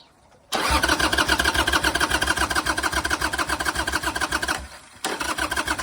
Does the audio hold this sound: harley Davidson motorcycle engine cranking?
yes